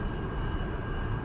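An F-105 Thunderchief jet engine in the DCS flight simulator gives a steady, broad, even roar with no talk over it, heard as the heavy aircraft slows and taxis.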